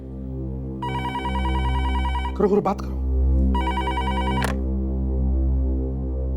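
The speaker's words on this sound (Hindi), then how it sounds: "आइए, उठाइए फोन" Two bursts of electronic telephone ringing, with a voice speaking briefly between them over a steady low hum.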